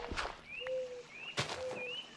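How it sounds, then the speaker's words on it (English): An in-game owl in Minecraft VR gives a few soft, rising hoot-like calls, three short repeated notes spaced evenly and heard faintly alone. "Man, I love that little owl sound."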